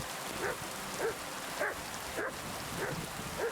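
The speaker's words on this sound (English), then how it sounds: "Mutt is barking up a storm." A dog barks repeatedly in the medieval video game Kingdom Come: Deliverance II, about six evenly spaced, moderately distant woofs over a steady hiss resembling rain.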